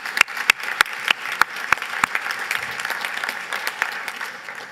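Audience applause at the 10th anniversary precision medicine meeting: a steady wash of clapping with several loud, sharp claps standing out near the start.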